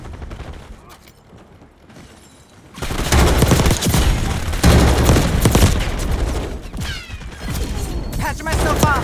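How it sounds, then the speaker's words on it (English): Call of Duty Black Ops 6 multiplayer gunfire, including an enemy sniper, breaks out suddenly as loud, dense volleys of shots and bursts, after quieter game ambience and mechanical clicks. "Enemy sniper shooting."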